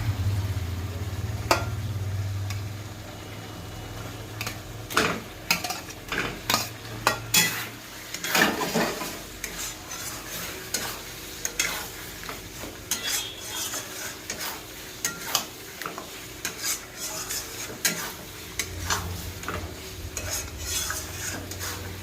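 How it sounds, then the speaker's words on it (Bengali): Previously fried eggs are stirred into oil-glistening spice masala for egg korma, a spoon scraping and clattering against the pan in steady strokes over a soft, continuous sizzle, close and with no talk. "এবার আমি এর মধ্যে দিয়ে দেবো ভেজে রাখা ডিমগুলো"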